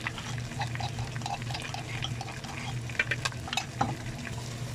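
Garlic and ginger paste fries in a pot for a clay-pot Pakistani chicken korma, giving a steady close sizzle under a low hum, with a few clinks of a utensil against the pot toward the end.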